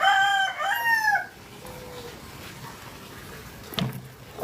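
A rooster crows loudly and close by on a small home farm where hens are laying eggs, its long call filling the first second or so, followed by quieter low farmyard noise with a brief clatter near the end.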